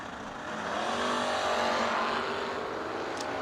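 A drag race at a summer fling meet, with cars including a little Malibu roaring down the track, a loud sustained engine drone that builds and holds before easing slightly, heard alone without voices.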